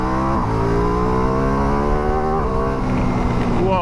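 A 2023 Ducati Multistrada V4 Rally adventure motorcycle in enduro mode gives a loud, close engine roar with rising revs, pitch climbing in steps through gear changes, with no talk over it.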